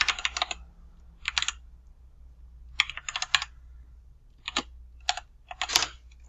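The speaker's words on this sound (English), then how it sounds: "don't even know if I wrote that correctly because I can't see what I'm typing" Typing on a computer keyboard during a network administration session, heard as irregular clusters of crisp, close key clicks separated by short pauses, with no talking.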